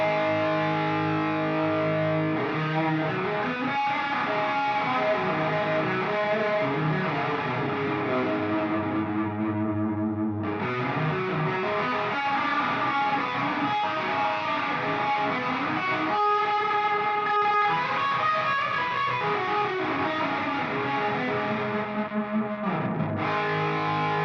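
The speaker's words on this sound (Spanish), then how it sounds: "en donde se conectaron todos los efectos en el input, o sea, antes de la distorsión" An electric guitar plays through a tube amplifier with its effects pedals in the input chain ahead of the distortion, giving a loud, saturated, continuous tone with modulated shimmer and a brief drop-out partway through.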